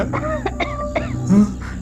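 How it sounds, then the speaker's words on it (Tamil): Several short, close coughs in quick succession, ending with a slightly rougher, throaty cough. "இருமல் சவுண்டு."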